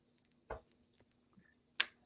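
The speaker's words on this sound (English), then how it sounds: "We do a clap test for delay." Two sharp hand claps about a second apart, sounded as a delay test for podcast audio, each a crisp close transient in an otherwise quiet room.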